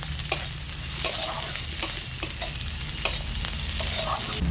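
Onions with black cumin fry in a pan as a spoon stirs in regular knocks and scrapes about once a second over a continuous sizzle.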